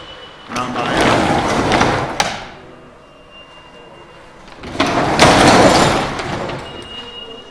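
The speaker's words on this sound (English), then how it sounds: "I'm going to go ahead and close this door." A damaged trailer door closing, two long scraping, sliding bursts separated by a quiet gap, loud and close.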